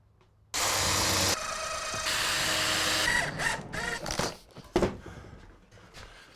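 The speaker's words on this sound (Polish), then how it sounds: "skręcamy za pomocą odpowiedniej długości wkrętów" A power driver sinks screws into the frame of a wooden bench, made of four pieces mitered at 45 degrees. Two sustained, close whirring bursts are followed by knocks and clatter as the wood is handled.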